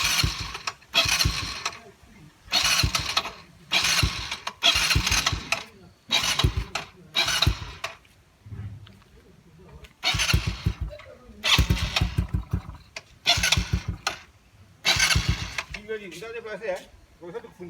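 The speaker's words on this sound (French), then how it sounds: "C'est comme ça qu'elle fait quand le moteur il est encore froid." A cold Yamaha Raptor 90 quad engine runs roughly, surging in loud repeated bursts separated by quieter lulls, close by, with a person talking in between.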